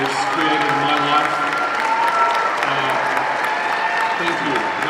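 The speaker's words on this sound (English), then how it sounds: "And a huge round of applause, Karl." Audience applause at a fan convention stage event with an actor, steady dense clapping sustained throughout with crowd noise mixed in.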